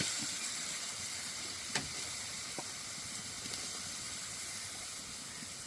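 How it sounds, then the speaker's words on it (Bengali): Chopped onion goes into a hot pan where chicken pieces have been frying, producing a continuous sizzling hiss with a couple of faint clicks, steady and close with no talk. "মাংসগুলো ভেজে একটু সাইড করে নিয়েছি। এবার দিয়ে দেব কুচানো পেঁয়াজ,"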